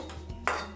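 A utensil scrapes and clinks against a pan while fish and potato curry is stirred, with fried catfish pieces just added; a short metallic clatter stands out near the end.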